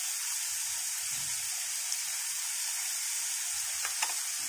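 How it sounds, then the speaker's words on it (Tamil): Tomatoes with salt sauté in a pan, giving a soft, steady sizzle and hiss with a few faint stirring scrapes, quiet and continuous with no talk. "நல்லா தக்காளி வதங்கிருச்சு"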